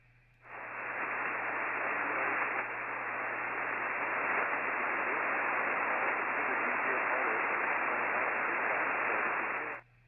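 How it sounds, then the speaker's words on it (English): Steady band-limited rushing hiss of a ham radio transmitter being tuned up on the band, heard over a parachute-mobile amateur radio receiver, loud and continuous for about nine seconds with a low steady hum beneath. "Somebody is literally tuning up on the band right now."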